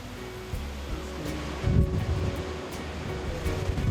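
Ocean waves on the Algarve's Atlantic coast rumble and wash steadily with wind noise, one fuller surge breaking midway, no talk over them.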